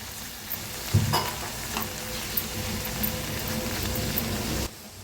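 Garlic and fenugreek leaves stirred in a full kadai make a loud, continuous sizzle with scraping and soft clatter from the stirring. The sound cuts off abruptly near the end.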